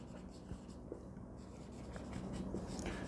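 Faint scratching of a pen writing by hand during a math lesson, soft strokes under a quiet room hum with a hint of low speech.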